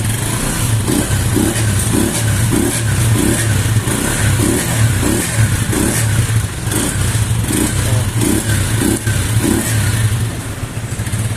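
Used motorcycle engine running close by with a regular pulsing beat and brief revs, loud and steady throughout before easing slightly at the end, no talking.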